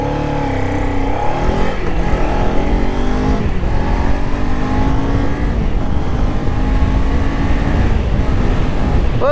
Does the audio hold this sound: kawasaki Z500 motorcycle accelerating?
yes